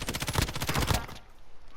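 Rapid automatic gunfire in a shooter video game, a fast rhythmic burst of loud shots lasting about a second, then cutting off into a fading tail.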